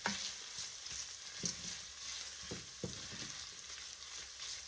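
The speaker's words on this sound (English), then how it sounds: "Our vegetables are cooked through, so I'm going to add our garlic." Garlic sautés in a soup pot with cooked vegetables, a faint steady sizzle with occasional soft stirring knocks and scrapes and no voices.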